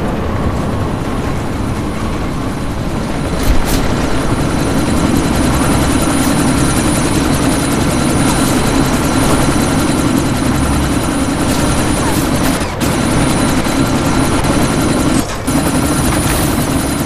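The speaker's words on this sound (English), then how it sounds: "We can't let that chopper take off, Jensen." A helicopter in the video game Deus Ex: Mankind Divided whirs loudly and steadily as it prepares to take off, with rotor noise dominating throughout and a few sharp transient hits.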